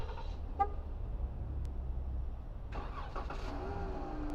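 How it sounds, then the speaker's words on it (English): Dodge Charger or Challenger remote started with a key fob: a short chirp, then after a pause the engine cranks and catches into a low idle, heard from nearby outdoors. "And you've just started the vehicle."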